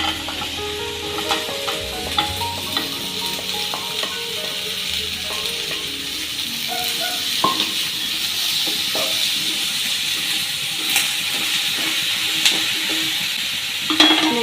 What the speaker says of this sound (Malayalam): അരിഞ്ഞു വെച്ചേക്കുന്ന പടവലങ്ങ ഇതിലേക്ക് ചേർത്ത് കൊടുക്കണം